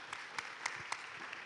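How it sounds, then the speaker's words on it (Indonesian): Brief, soft applause from a crowd, a few distinct claps popping out over a steady wash of clapping. "Mari kita kasih tepuk tangan untuk jawabannya."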